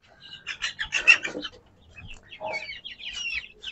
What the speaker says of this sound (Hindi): मुर्गियां हमने 2 पाली थी